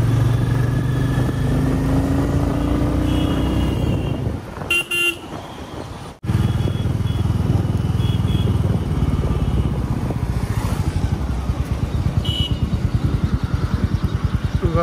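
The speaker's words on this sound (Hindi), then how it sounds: "थोड़ा खींचते हैं बाइक को।" A Royal Enfield Meteor 350 motorcycle engine rumbles and revs up on a road, loud and close, with a brief cutout midway and a couple of short horn toots from traffic.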